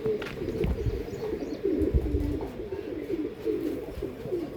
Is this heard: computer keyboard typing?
no